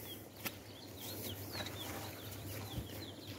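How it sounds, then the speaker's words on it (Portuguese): A lesser seed-finch sings by the water's edge, repeating short high whistled phrases at moderate distance over a steady low background hum, with a couple of brief sharp clicks and no voices. "O curiolzinho está cantando, ó."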